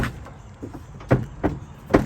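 The door of a 2023 Honda Pioneer 1000-5 Trail Edition utility vehicle is fitted into place, giving several sharp plastic-and-metal knocks and clunks spaced about half a second apart, close and fairly loud.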